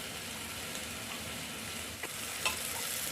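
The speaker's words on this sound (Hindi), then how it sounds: "तब तक ये 5 मिनट फ्राई होगा" Chopped vegetables with tomatoes sizzle softly and steadily in a pan for a vegetable curry, with a few faint stirring scrapes near the end; no voices.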